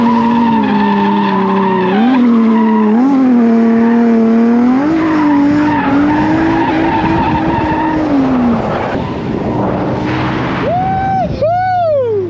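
Drift kart sliding around Apple Valley Speedway in California, tires screeching in long, wavering squeals that rise and fall for several seconds, ending in a couple of sharp chirps, loud and close.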